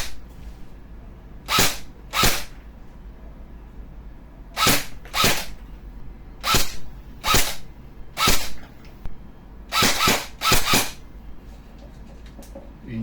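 An EC 702 airsoft rifle fires on semi-auto, about a dozen sharp, close, separate cracks, singly or in quick pairs, in a quiet setting.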